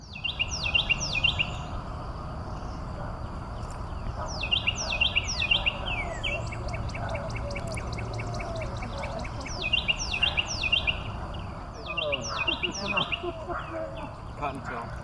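Songbirds including cardinals and Carolina wrens call in repeated bursts of bright, clear chirps from a parking lot in the early morning, with a low outdoor rumble and faint voices underneath.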